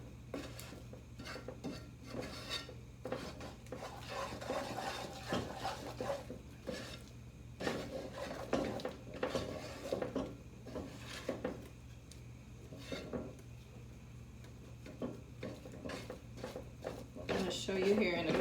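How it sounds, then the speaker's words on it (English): A utensil scrapes thickening homemade playdough off the sides of a pan, with repeated scraping and clinking strokes throughout, alongside a person talking. "I'm scraping it off all the sides so that I get maximum use out of all my ingredients"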